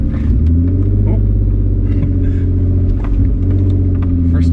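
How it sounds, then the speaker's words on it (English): A Kia off-roader with a manual transmission crawls up over logs. A loud, continuous engine rumble drones close by, with uneven revving throughout. "Let's see if the mighty Kia can make it up logs."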